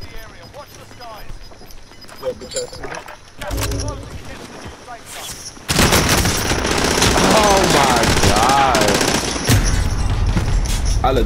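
Gunfire in the video game Call of Duty: Modern Warfare, with an LMG against a Mac 10 in a gunfight. Scattered shots come early, then a loud sustained automatic burst and other game sounds follow under a player's voice.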